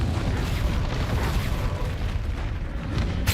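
Fiery spell blast in a video game, a continuous low booming rumble with crackling roar sustained at steady loudness throughout, swelling slightly at the very end.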